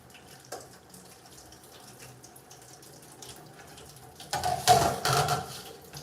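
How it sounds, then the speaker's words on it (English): Tap water runs into a bowl of soaking saltfish for a Caribbean meal, a loud splashing gush arriving late after a quiet kitchen background. "let's add a little water into it."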